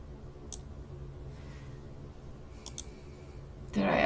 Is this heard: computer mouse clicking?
yes